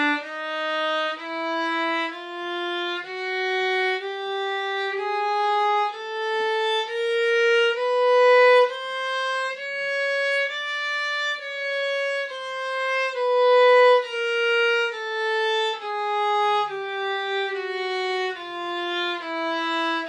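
Violin plays a one-octave chromatic scale starting on D, even bowed notes stepping up by semitones and then back down, about twenty notes in steady rhythm, clear and close with no talking.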